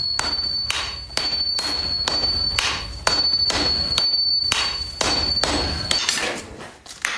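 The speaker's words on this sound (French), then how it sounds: "Les chocs des marteaux résonnent dans l'atelier." Hammers beat heated steel in a Japanese katana forge workshop, about a dozen sharp ringing strikes landing in a fairly regular rhythm, close and loud, with a faint high tone sustained beneath them.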